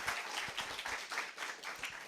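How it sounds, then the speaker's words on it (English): A small audience at a CreativeMornings talk claps briefly, quiet and fairly sparse, with individual hand claps distinguishable through the patter. "Can we just give one more round of applause?"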